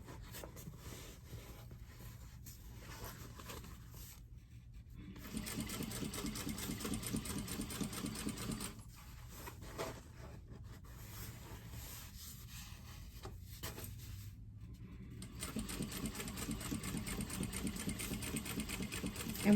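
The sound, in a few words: sewing machine back-stitching a tote bag seam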